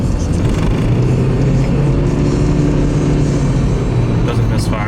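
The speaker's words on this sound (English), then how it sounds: "Giving it throttle coming up the hill." A second-generation Toyota Prius with a misfire, accelerating uphill under throttle, heard as a loud, steady engine drone with road noise throughout, as from inside the car.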